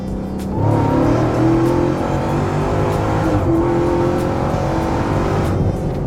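A Dodge Demon 170 launches hard on an unprepped surface, its engine roaring loud and close as it revs and climbs through gears, tires struggling for traction throughout.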